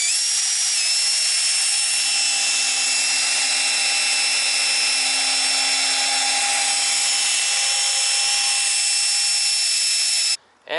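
An electric drill spins a 3-inch backing pad on a mandrel for rotary polishing, giving a steady high-pitched whine held at constant speed for about ten seconds before cutting off abruptly.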